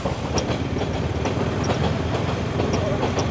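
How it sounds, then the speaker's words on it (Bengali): Local passenger train on a winter morning, heard from aboard: steady loud rolling rumble with rhythmic clickety-clack wheel beats over rail joints, continuous and close throughout. "ও লোকাল ট্রেন এটা"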